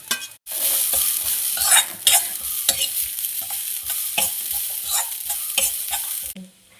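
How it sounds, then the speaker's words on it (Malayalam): Grated coconut fries in a pan for a Kerala-style yam theeyal while a spoon scrapes and stirs it in rhythmic, close strokes over a continuous sizzle. No voices. "ചെയ്ത് വെച്ച തേങ്ങ നമുക്ക് ചേർത്ത് കൊടുക്കാം"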